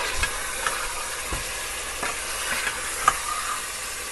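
Mutton browning in its own fat inside a hot pot gives a steady, soft sizzle, broken by a few faint stirring clicks, with no voices.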